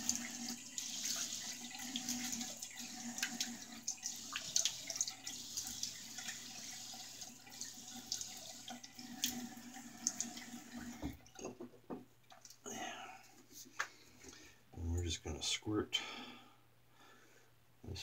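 A bathroom tap runs steadily as water splashes over a face being wetted before a shave, then breaks into intermittent splashing and dripping, with someone speaking over it at times.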